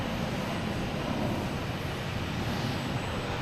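A JetBlue airliner arriving at Logan Airport gives a continuous, broad engine roar that holds steady and fairly loud throughout, with no voices over it.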